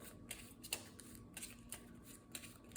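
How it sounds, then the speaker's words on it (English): A deck of game cards for the Marvel Champions card game is shuffled up close, with repeated quick riffles and flicks in short bursts, quiet and crisp with no talk. "And let's shuffle up."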